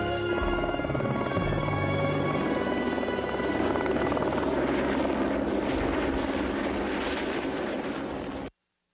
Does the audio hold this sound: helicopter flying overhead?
yes